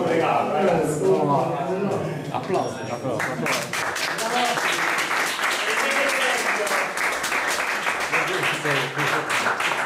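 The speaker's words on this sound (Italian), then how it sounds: "Applausi." An audience at a Python programming talk breaks into a burst of applause, dense clapping that carries on for several seconds with voices mixed in.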